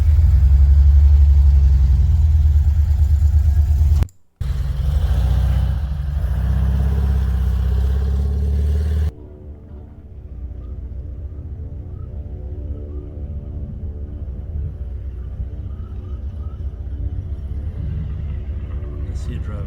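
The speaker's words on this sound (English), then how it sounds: "And let's see it driving." A 1991 Volkswagen Vanagon Carat driving, heavy low engine rumble close by with a brief dropout, then a quieter, steadier drone from inside the van with a droning hum.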